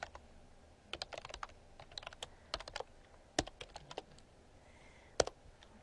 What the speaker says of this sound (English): So you'll excuse me if I just kind of type away on this